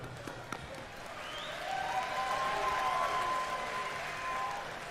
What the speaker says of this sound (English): So hand of applause for Rory